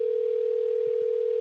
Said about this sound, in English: Can you guys hear now? The ringing?